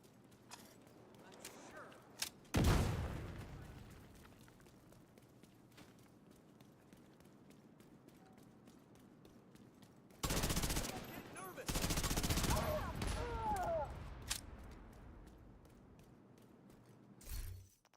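Sporadic gunfire from the shooter game Tom Clancy's The Division 2: a sharp shot, then two bursts of rapid automatic fire and a final brief volley, set against quiet ambience with some speech.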